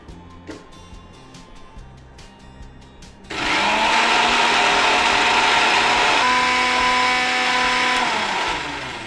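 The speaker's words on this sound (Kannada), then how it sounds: "ಸೊ ಇಷ್ಟೇ ಹೀಗಾದ್ರೆ ಗ್ರೈಂಡ್ ಮಾಡ್ಕೊಳ್ಳಿ" A mixer grinder grinds masala powders in a home kitchen. It starts abruptly and runs as a loud, steady whirring drone for several seconds, then winds down.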